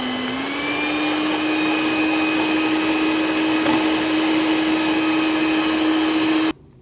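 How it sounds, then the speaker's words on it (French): Egg whites with a pinch of salt being beaten for meringue by an electric mixer: a loud, steady motor whine held close and unbroken for several seconds before cutting off abruptly. "Je commence à battre les blancs d'œufs avec la pincée de sel et je rajoute progressivement"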